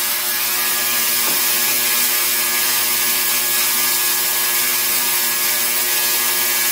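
Ultrasonic cleaner running with a steady, close buzzing hum and a constant high whine, unchanging throughout.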